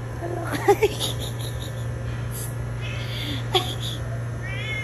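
A cat meows a few times close by over a steady electrical hum, with short high calls scattered across the stretch.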